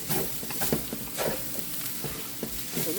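Food sizzling in an overheating wok while vegan fried rice cooks, a steady crackling fry with scattered pops and stirring scrapes, close up and without speech.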